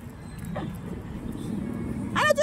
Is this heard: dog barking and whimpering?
yes